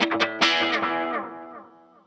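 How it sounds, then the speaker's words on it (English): Guitar played through a Solidgold Electroman modulated delay pedal, with an overdrive pedal in the chain: a few quick picked notes swell into a shimmering, wobbling wash of repeats that fades away. "The kind of pedal is a modulated delay."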